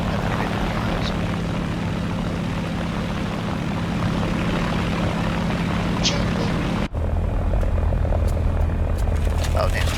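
A Ki-43-II fighter's propeller engine in the War Thunder game, droning steadily and loudly with a constant hum, then shifting abruptly to a different engine tone near the end.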